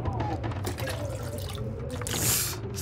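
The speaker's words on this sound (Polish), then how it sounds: "Dobra, już wziąłem wodę z kibla" Water is taken from a toilet in The Long Dark video game, a trickling, pouring liquid sound lasting a few seconds with drips, set under low game ambience.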